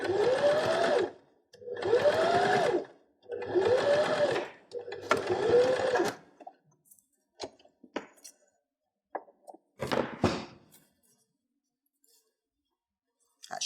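Four separate runs of a sewing machine stitch Christmas cracker fabric, each about a second long with a rising whir, followed by scattered light clicks and handling noises, with no talk.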